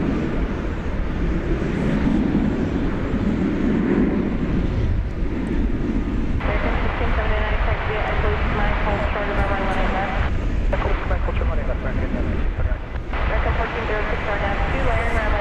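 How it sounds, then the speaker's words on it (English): An Airbus A319 jet taxis into takeoff position at DFW Airport, its engines a steady rumbling roar that shifts in tone partway through, with someone talking over it. "Pulling into position for takeoff, Flight 1406 to San Antonio, Texas, an Airbus A319"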